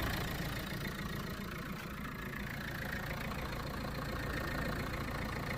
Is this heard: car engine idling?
yes